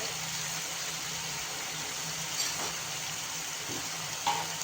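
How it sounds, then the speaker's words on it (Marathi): Tomatoes sautéing in a pan for fodaniche varan, a steady low sizzle and hiss with occasional faint stirring scrapes, close and moderately quiet. "टोमॅटो इकडे परतत असतानाच"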